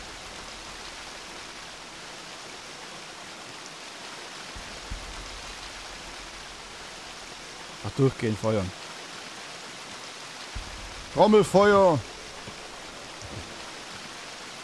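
Steady, soft rain hisses as a constant wash of noise in the Gothic 2 game world, while someone talks over it in short bursts.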